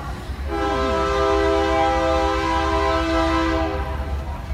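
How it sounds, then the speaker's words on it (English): A passing train sounds a long, loud, sustained horn blast over the steady rumble and rattle of the railcars, with no talking over it. "Oh, train."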